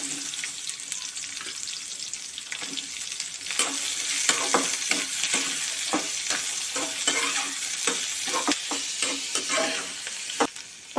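Garlic, ginger and onion fry in hot oil for a spicy chutney, a steady sizzle broken by repeated sharp scrapes and clinks of a stirring spoon against the pan, close and without speech.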